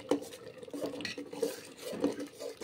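Thick bhoger khichuri being stirred in a pot after sugar is added, a spoon scraping and squelching in a slow, repeating rhythm, close and moderately loud, with no voices.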